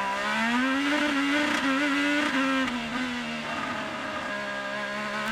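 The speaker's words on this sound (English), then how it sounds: "I just love to listen to the engines here" IndyCar race cars at the Detroit Grand Prix street race scream past at high revs, a loud sustained engine whine shifting pitch as drivers work the paddle shifters, with no talk over it.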